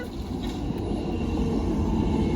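A passing train gives a heavy, continuous low rumble that fills the whole stretch at steady loudness, with no voices over it.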